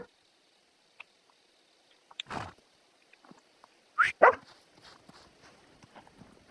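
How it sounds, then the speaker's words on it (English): A few sharp dog barks ring out among quiet footsteps and small clicks, with short gaps between, in the video game Kingdom Come: Deliverance II. "Hey, dog, you're making too much noise."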